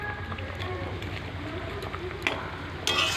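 Fish slid into hot oil in a pan for a spicy fish curry with potato and eggplant, giving a steady close sizzle that swells sharply louder near the end.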